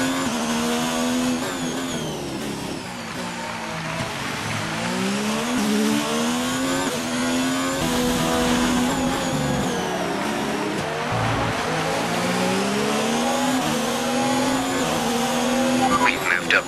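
An F1 car in the racing video game F1 2019 accelerating out of the pit lane at the Azerbaijan Grand Prix, a loud continuous engine whine climbing and dropping through several gear changes, with some tire squeal and a voice talking over it.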